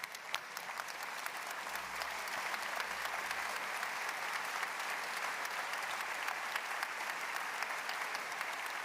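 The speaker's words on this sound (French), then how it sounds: "mais on peut applaudir Nathalie d'abord" Sustained applause from a large congress audience fills the hall, dense and steady clapping throughout, no talking over it.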